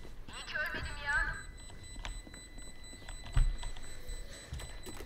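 Repeated electronic beeping from Killjoy's alarm bot being deployed in Valorant, a thin steady high tone under in-game voice lines and ambient game sounds.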